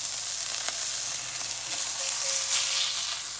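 A beef burger patty sizzles in a hot pan, a steady close-up crackling hiss that stays even throughout with faint light pops.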